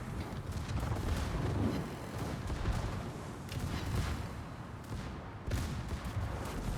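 Battleship secondary guns going off in a naval strategy video game, a continuous dense rumble of distant gunfire and booming shots layered over one another, with no voices.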